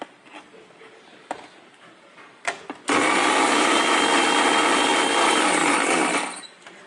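A coffee grinder bursts into a loud, steady whir close by for about four seconds, then winds down, after a few soft clicks and taps of handling.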